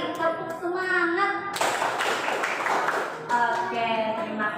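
Children in an Indonesian classroom perform a rhythmic 'tepuk semangat' clap, a burst of patterned hand claps in the middle, with a teacher's voice speaking before and after.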